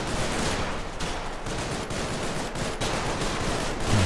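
Gunfire in the World War II video game Combat Mission Market Garden crackles continuously in dense, overlapping bursts of rifle and machine-gun fire, loud and sustained, with no talk.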